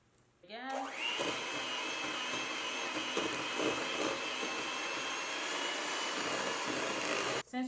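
An electric mixer whips sugar and margarine in a bowl, starting up with a rising whine and then running in a steady, loud, continuous drone for several seconds before cutting off.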